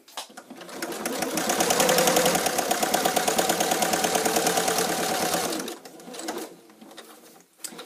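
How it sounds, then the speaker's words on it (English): A sewing machine runs steadily while stitching the side seam of a fabric bag, with a dense, continuous mechanical whir for about five seconds before it stops, followed by a few softer handling sounds. "So continue to sew down."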